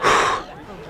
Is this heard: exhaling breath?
yes